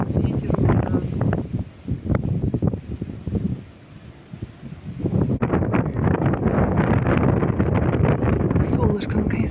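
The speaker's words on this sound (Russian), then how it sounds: "Ветер ужасный." Strong hurricane-force wind buffets the microphone on White Rock, a rocky outcrop high above passing tourists, roaring in loud gusts that ease briefly midway before surging back, with voices talking under the rush.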